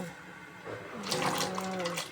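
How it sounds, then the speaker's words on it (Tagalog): Ingredients for a Chinese pork soup are poured into a pot of boiling water, giving a short splashing, gurgling pour that swells after a quiet start and fades, close and moderately loud. "ilalagay na natin doon sa pinapakulo nating tubig. So, buhos lang natin to"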